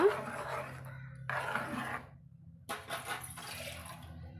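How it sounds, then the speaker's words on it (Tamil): Water poured in a couple of bursts, splashing into a pot of jackfruit seed curry, with quiet kitchen clatter between pours. "இப்போது தண்ணி தேவையான அளவு சேர்த்து நம்ம கலந்து விட்டுக்கலாங்க"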